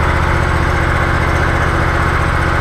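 A compact tractor engine, a Legacy XL fitted with a loader, idles at a steady low rumble, close and loud with an even, unbroken drone and no voices.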